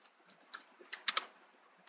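Typing on a computer keyboard, a sparse run of soft, close key clicks with a few sharper taps near the end, alone in a quiet room.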